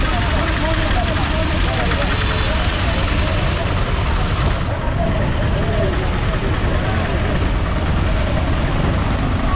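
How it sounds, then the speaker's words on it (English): Three-wheeled tuk-tuks idle and rumble through busy street traffic in Mombasa, Kenya, a steady close engine drone with people talking over it throughout. "So these are the tuk-tuks, three-wheeled vehicles."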